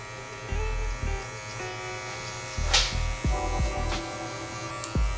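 Electric hair trimmer buzzing in close, repeated short bursts as it clips curly hair with a guard fitted, switching on and off in an irregular rhythm with soft crackles between passes.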